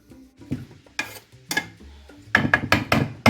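Seasoning sizzles in oil in a pot at the start of a one-pot fried cabbage meal. Utensils clatter and scrape in uneven bursts over the low frying hiss, and the knocks grow busier toward the end.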